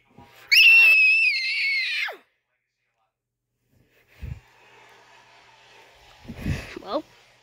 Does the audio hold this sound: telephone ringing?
no